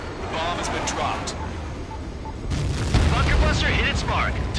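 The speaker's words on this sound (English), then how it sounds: "Bunker buster hit its mark." A bunker buster bomb striking a missile silo in the Ace Combat 7: Skies Unknown video game, a deep rumbling blast that swells suddenly midway and stays loud, with a voice speaking over the start.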